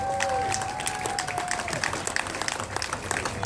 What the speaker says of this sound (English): how about a warm round of applause?